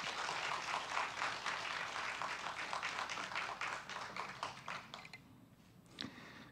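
Church revival congregation welcoming a pastor with soft, dense applause that carries on for about five seconds, then trails off into a few scattered final claps, faint and somewhat distant.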